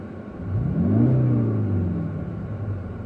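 A Kia Optima GT 2.0 T-GDI engine idles, heard from inside the cabin, a low steady hum that swells slightly as the revs rise and settle, with no one speaking.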